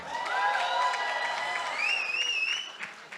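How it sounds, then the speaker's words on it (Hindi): Loud, sustained applause and cheering from the crowd at the Pathaan success press conference, dense clapping with whistles rising above it, then tapering off near the end. "एक बार जोरदार ताली होनी चाहिए."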